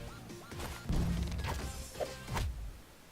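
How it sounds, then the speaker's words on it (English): A series of sharp cartoonish smacks and crashing thuds from a boxing glove arrow hitting, several hits in quick succession, fairly loud and close with no speech. "You should hear the boxing glove arrow when it hits. It makes this kind of sound."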